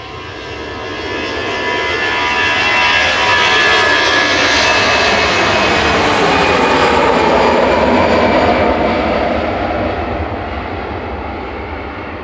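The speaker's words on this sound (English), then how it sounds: "EasyJet departing now over to Amsterdam with flight 2169." An EasyJet airliner departs Manchester Airport bound for Amsterdam, its engine roar swelling loud and broad, holding at full volume, then fading as it climbs away.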